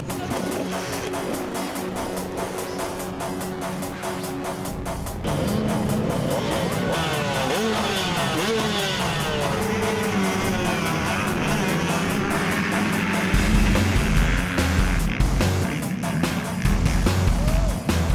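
Motocross motorcycles launch off the start line of a race, engines rising from a steady idle into a loud, layered roar of revving that grows harder and grittier as the pack accelerates away.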